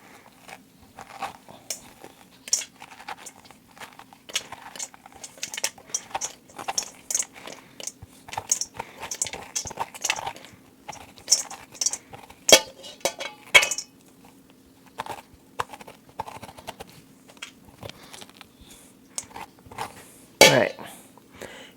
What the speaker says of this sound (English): I'm going to grab a spoon, and all you do is go through and just scrape the insides out